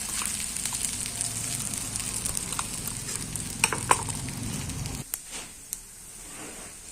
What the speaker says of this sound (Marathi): अशा प्रकारे आपण या सगळ्या जिन्नसला एकत्र मिक्स करून घ्यायचे आहे।